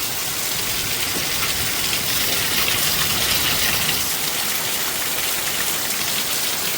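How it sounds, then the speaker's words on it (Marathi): Heavy monsoon rain in a Maharashtra village pours down in a dense, constant hiss and patter, loud and unbroken throughout. "हे बघा बघा कसला पाऊस झाला"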